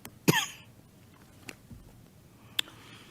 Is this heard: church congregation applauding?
no